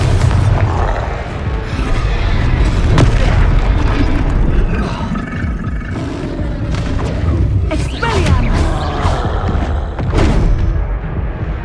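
Combat in the Hogwarts Legacy video game as the Descendo spell slams an enemy down, heavy booming impacts and thuds layered with whooshes and magical bursts, loud and dense, with occasional voices.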